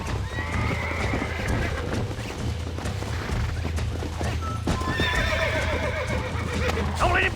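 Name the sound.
horse bucking and neighing in Red Dead Redemption video game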